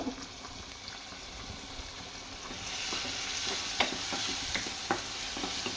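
Red sauce pasta in a rich, fatty sauce is stirred in a pan. Continuous bubbling and sizzling grows louder partway through, while repeated scraping strokes of a spoon against the pan bottom come close and clear. No talking.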